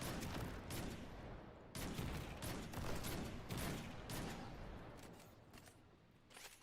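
Rapid video game gunfire fills the scene in dense, repeated bursts, one volley after another at steady loudness, with no voices over it.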